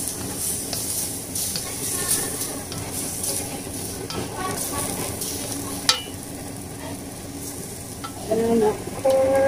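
A spatula scrapes and tosses Singaporean fried noodles with black pepper in a hot pan, a steady sizzle running underneath the repeated stirring strokes, with a brief sharp clank near the middle.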